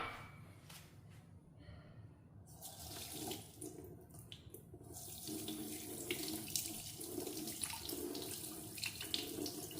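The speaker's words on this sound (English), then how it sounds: "what I'm going to do is rinse this in cold water" Cold tap water runs steadily into a sink while long grain rice is rinsed, a soft continuous splashing stream with faint swishing changes as the rice is stirred.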